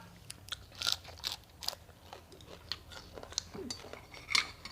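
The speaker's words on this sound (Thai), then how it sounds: "ปลาหมึกกรอบมากพี่น้อง" Crisp, loud crunches of someone chewing a spicy Thai squid salad with fried crispy squid, irregular bites close to the mic with occasional cutlery clinks, and little talk.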